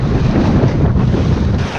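Strong wind roars steadily across the microphone aboard a Lightning sailboat planing on a very windy day, loud and unbroken with a rushing wash of water beneath.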